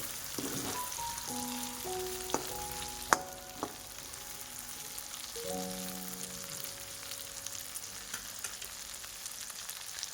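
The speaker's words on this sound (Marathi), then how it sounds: "आता ही थोडीशी सॉफ्ट होईपर्यंत थोडीशी आपल्याला फ्राय करून घ्यायची आहे" Pieces of vaam (eel fish) sizzle softly and steadily in a pan, a quiet constant crackle with a few sharp knocks and some faint tonal background tones.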